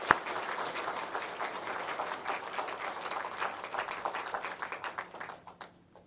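A church congregation claps together during a Sunday worship service, a fairly soft, even wash of applause lasting about five seconds before tapering off quickly.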